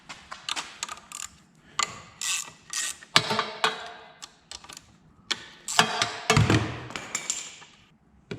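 Rapid bursts of clicking from a ratchet wrench loosening 8mm bolts on an abandoned Honda generator, close up, with irregular runs of sharp ticks and brief pauses between strokes.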